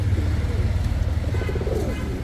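A pigeon coos in low, soft repeated notes, close by, with a steady background rumble.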